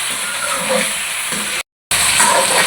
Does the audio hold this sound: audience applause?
no